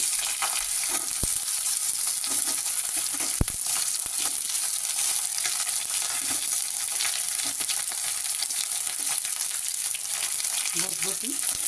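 Chopped potatoes fry in hot oil for a Bengali borboti dish, a dense continuous sizzle with occasional stirring scrapes and no voices.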